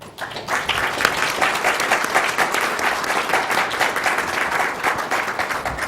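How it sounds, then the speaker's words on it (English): Sustained applause from a conference audience honoring panelists after an international strategy panel session, steady and fairly loud throughout with dense overlapping claps and no talking. "Je vous invite à donner l'applaudissement."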